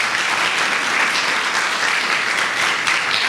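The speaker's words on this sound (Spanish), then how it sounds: "Dele un aplauso al Señor si eso es cierto" Steady, dense applause from a church congregation fills the space, loud and continuous throughout with no talking over it.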